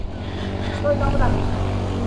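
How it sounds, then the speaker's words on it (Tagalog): A motorcycle engine idles steadily on a test ride during a knee-drag riding outing, a close, even rumble with a slight rise in revs partway through. "try natin yung motor ni Brother Kenji."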